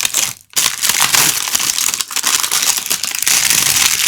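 Loud, close crinkling and crushing of plastic packaging being handled and opened, continuous rustling with a brief pause near the start.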